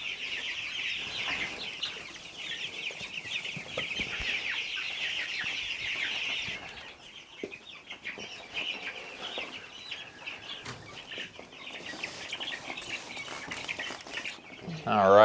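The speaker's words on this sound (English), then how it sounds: "And the chickens are doing fantastic in here." Chickens cluck and chirp busily in a farm brooder, with a dense, continuous chorus of birds close by, some feed rattling and a brief voice at the end.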